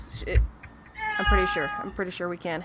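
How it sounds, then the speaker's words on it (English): A talkative pet cat meows several times inside a house, with drawn-out calls and a quick run of short, close meows, while someone talks over them. "she is trying her meows elsewhere in the house"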